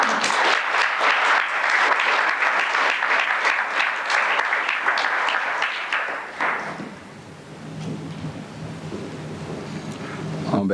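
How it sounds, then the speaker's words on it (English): A banquet audience gives a round of applause for an award recipient at a Ball State University Black alumni gathering, dense clapping for about six seconds that then thins and fades to a quieter room murmur. "we'd like to give a round of applause for Tim Brown"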